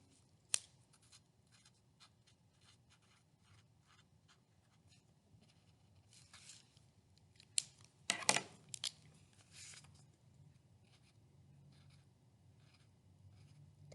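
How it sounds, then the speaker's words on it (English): Markers scratching and rubbing over a paper mini-book cover, soft intermittent strokes close to the mic, with a louder cluster of scrapes and taps near the middle and quiet room hush between. "decorate with some markers if you have"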